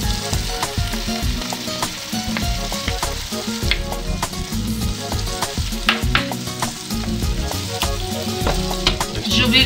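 Tomatoes and tomato paste frying in a hot pan, a steady loud sizzle with crackling pops and occasional stirring scrapes throughout.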